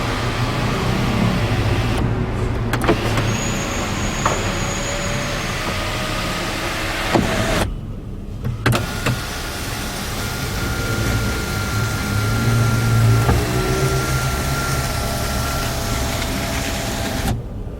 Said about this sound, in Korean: 당연히 선루프도 작동이 잘 되고 있습니다